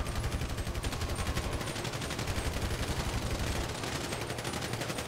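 Gunfire in the video game GTA Online rattles as a rapid, sustained stream of automatic shots at a fast, even rhythm, loud and continuous for the whole stretch.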